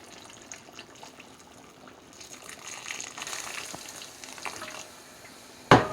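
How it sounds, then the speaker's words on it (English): Warm water pours into a cooking pot of Jamaican brown stew mutton, a soft steady gush and splash that swells midway, with a sharp clink near the end. "I'm gonna add warm water now."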